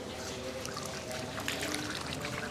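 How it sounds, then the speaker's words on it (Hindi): Water poured from a tap or vessel during wudu while rinsing the mouth, a soft continuous trickle and splash heard fairly faint and steady without speech. "तो पहले हाथ धोएं, फिर उसके बाद हम कुल्ली करेंगे"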